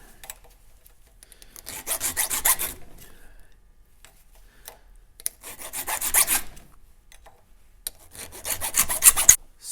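An electric chainsaw sharpener, the Princes Auto/Harbor Freight type, grinds a chain's cutting teeth in three separate bursts of harsh, raspy grinding, each about one to two seconds long, with quiet pauses between them.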